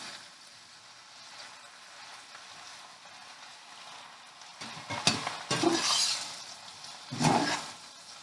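Yellow squash, zucchini, fresh spinach and onions are stirred in a frying pan. A steady soft sizzle builds into louder scraping, stirring strokes near the end.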